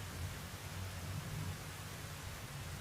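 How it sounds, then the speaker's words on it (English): Rain in the video game Arma falls as a soft, continuous wash of noise with a low rumble underneath, even and unbroken, with no voices. "I've got to say the rain sounds incredible firstly"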